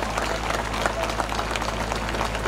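A congregation at a Christian gathering in Chamkaur Sahib claps together in a brief burst of rapid, dense applause, loud and close, over a low hum.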